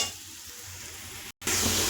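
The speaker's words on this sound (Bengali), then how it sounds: "এবার আস্তে আস্তে করে মশলার সাথে সব ভাজা হবে" Ground spices fry in fish oil in a pan for an Indian-style fish and potato-brinjal dish, giving a steady close sizzle that cuts out briefly, then returns louder and brighter.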